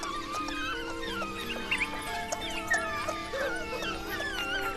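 Wild dog puppies in a pack whimper and squeak in thin, high, overlapping cries, close by, over a steady outdoor ambience.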